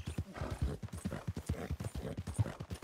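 Rapid, even hoofbeats of a horse trotting in Red Dead Redemption 2, close and steady throughout, a rhythmic clip-clop with no voices.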